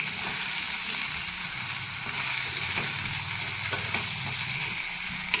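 Brinjal dry curry sizzles steadily in a pan as chutney is stirred through it, a continuous fry hiss with soft scraping strokes and a small clink near the end, close by and with no voices.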